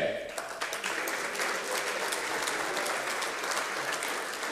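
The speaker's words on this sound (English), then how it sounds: "Congratulations, Zero Care. A round of applause," At an economic summit in Nigeria, the crowd applauds award winner Zero Care with dense, continuous clapping that begins after a short bit of voice and holds steady throughout.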